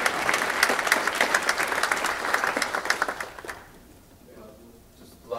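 Audience applause at a business forum, a dense burst of clapping that fades out after a few seconds and leaves near silence.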